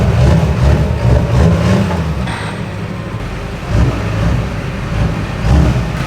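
A Duramax diesel truck with giant compound turbos and a solid axle swap revs inside a warehouse. It is loud and close: a rough, throaty engine rises in repeated surges over a constant heavy idle rumble.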